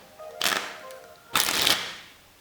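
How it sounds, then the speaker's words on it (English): A deck of playing cards is riffle shuffled by hand in two separate bursts: a short crisp flutter of interleaving cards, a pause, then a longer, louder cascade of cards riffling together, close up with no talking. "you're going to slowly reduce the pressure and let the cards shuffle together"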